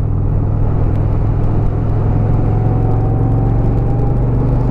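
Yamaha V Star 1100 motorcycle cruising on a freeway, a loud continuous engine drone with heavy wind rumble and no pauses.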